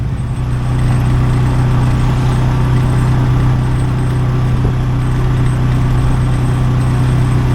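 A motorcycle engine idles with a loud, steady low rumble and a constant throbbing hum, close by, with no other sounds over it.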